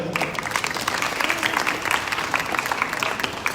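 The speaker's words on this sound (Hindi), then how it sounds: "कृपया तालियों से स्वागत" Steady applause from a crowd at a Srimad Bhagavat Katha religious gathering fills the whole stretch, dense overlapping claps at an even, lively level with no voices.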